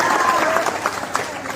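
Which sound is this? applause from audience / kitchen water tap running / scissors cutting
applause from audience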